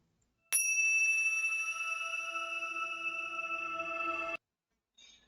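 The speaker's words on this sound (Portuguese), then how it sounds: "a nossa vibração começa com esse sino." A single bell strike rings out clearly and sustains with a bright, steady tone for nearly four seconds before cutting off, followed by a faint brief sound.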